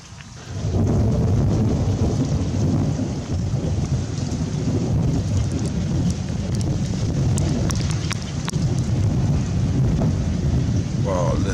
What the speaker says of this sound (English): listen to that rolling thunder.